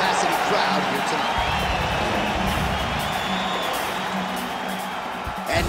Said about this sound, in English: Bruce Lee, ready to make a statement in front of this capacity crowd here tonight.